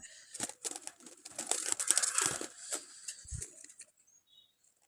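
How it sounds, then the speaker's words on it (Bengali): A pair of pigeons close by, with bursts of fluttering wings and rustling that grow busier in the middle, then fade to near silence. "দেখতে পাচ্ছেন এখানে একজোড়া কবুতর"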